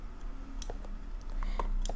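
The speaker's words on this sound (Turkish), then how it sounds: "hemen şu yanlardan şöyle bantlarımızı keselim." Scissors snip through packing tape on the sides of a cardboard box holding a boxing training set, giving a handful of sharp, scattered clicks and crisp cuts close up over faint room hum.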